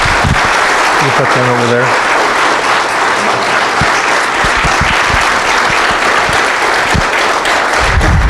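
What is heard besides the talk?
audience applause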